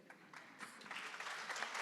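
Audience applause at a theatre awards ceremony, a soft, steady patter of many hands that swells slightly over a couple of seconds, heard from a distance and without voices.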